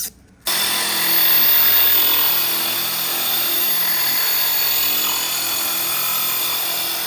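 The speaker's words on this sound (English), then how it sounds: "Using our same polisher to cut the hole with." A polisher fitted for cutting grinds steadily through porcelain shower tile to make a hole, a loud continuous abrasive whine that starts abruptly and holds for several seconds.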